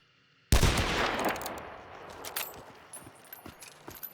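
A single loud, close gunshot fired with explosive ammunition in Hunt: Showdown 1896 cracks out sharply after a brief quiet, then decays into a long, echoing tail scattered with faint distant pops.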